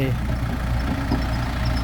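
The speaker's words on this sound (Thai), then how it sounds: "เอารถไถมาสูบน้ำอันนี้ก็ขยายสระครับกำลังสูบสระอยู่" A farm tractor's engine drives a water pump while a pond is drained and enlarged, a loud, continuous low rumble heard close up, with possible speech mixed in.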